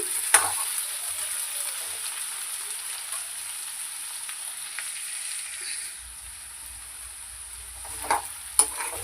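Potato pieces for aloo masala curry fry in oil and are stirred now and then, giving a steady, soft hiss of sizzling with a few sharp scrapes and clinks of the spoon, close and fairly quiet.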